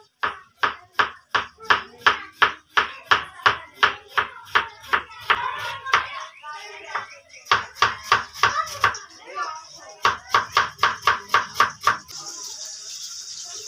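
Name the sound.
knife chopping capsicum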